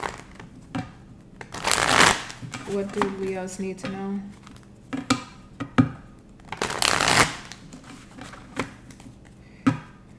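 Two bursts of tarot cards being riffle-shuffled, with someone speaking between and over them.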